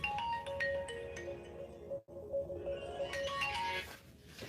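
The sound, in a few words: phone ringtone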